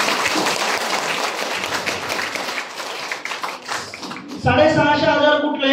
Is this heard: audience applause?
yes